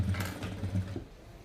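A domestic sewing machine runs a double stitch in a short, close, whirring burst with a quick mechanical needle rhythm, then winds down and stops.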